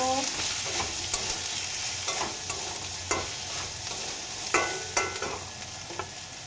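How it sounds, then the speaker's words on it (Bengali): A spoon stirs green chillies and spices through potol chingri, pointed gourd with prawns, in a hot pan, giving a steady sizzle with repeated scraping clicks at an irregular rhythm, close and fairly loud. "এখন দিয়ে দেব আমি কাঁচা লঙ্কা, এটাকে ভালো করে মিক্স করে নেব।"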